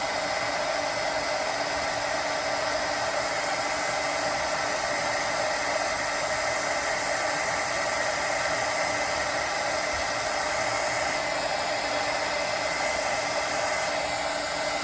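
Heat embossing gun blowing hot air over a Stampin' Up! sparkling snowflake card, Berry Burst embossing powder melting. A steady, loud, unbroken hiss holds for the whole stretch with no talking.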